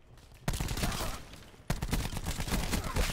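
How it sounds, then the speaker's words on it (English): Video game gunfire in two sustained bursts, a dense rattling volley starting abruptly and a second volley after a short break, loud and close with no talk over it. "someone's shooting at me"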